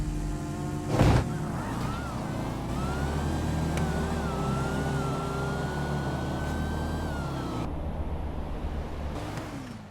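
Two cars in a GTA V street-outlaws style no-prep drag race, a Hellfire and a DeLorean, launch off the line together with a loud sustained engine roar and rising whine. A brief sharp burst sounds near the start and the noise cuts off near the end.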